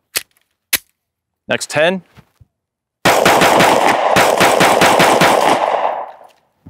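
A Sig P365 pistol fires Sig Sauer 115gr V-Crown JHP rounds in a rapid string of about a dozen sharp, loud, close shots over roughly two and a half seconds, after a few scattered earlier clicks and a short spoken phrase.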